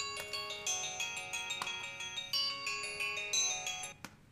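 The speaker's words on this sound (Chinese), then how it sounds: "你不用先听电话吗？" A phone ringtone chimes in a TV mystery drama, a bright repeating electronic melody pulsing steadily at moderate volume for about four seconds before stopping abruptly.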